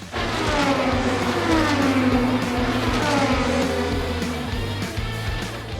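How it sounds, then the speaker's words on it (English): Indy 500 race cars lapping a large oval track of over two miles, a steady loud engine drone with sweeping pitch changes as cars pass, continuous throughout. "the energy of these cars going around that track, I think it's over 2 mile oval, and they come round in under 30 seconds a lap"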